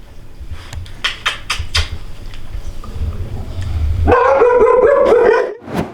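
A dog barks several times in quick succession, then gives a longer, high whining yelp near the end, loud and close, with no one speaking.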